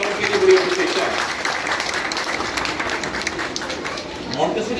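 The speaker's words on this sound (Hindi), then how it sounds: "टीचर्स के लिए खुसूसी तालियां" Audience clapping for teachers at a school's annual results ceremony, steady and dense throughout with a crowd murmur underneath, fairly loud and continuous.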